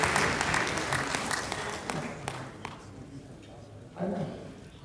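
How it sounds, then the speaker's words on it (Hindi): An audience applauds in a hall after the introduction of Justice Suresh Kait, the clapping strongest at the start and thinning out, with a speaker's voice running over it. "जोरदार तालियां जस्टिस सुरेश कैद साहब जी"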